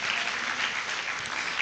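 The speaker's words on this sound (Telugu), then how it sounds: "గట్టిగా చప్పట్లు కొడుతూ దేవునికి మహిమ చెల్లిద్దాం" A church congregation at a pastor's service claps hard and continuously, a dense, even wash of loud applause with no pauses.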